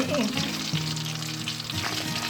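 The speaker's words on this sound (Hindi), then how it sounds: "ये पाए जो है मैंने इसमें ऑयल में डाल दिए हैं, इसको थोड़ा सा भूनूंगा मैं ऑयल में।" Mutton trotters frying in oil in a pan, a loud continuous sizzle with stirring scrapes, while a voice talks faintly over it.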